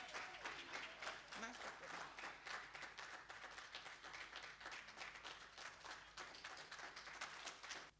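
An audience at a company presentation applauds to welcome the president, a sustained wash of many hands clapping, fairly distant and faint, with a voice speaking over it.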